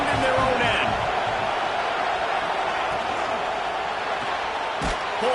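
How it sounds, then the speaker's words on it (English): A football stadium crowd roars steadily and loudly throughout, a dense sustained wash of cheering with a brief sharp bang near the end. "The roar of the crowd trying to fuel this defense to keep them pinned in their own end."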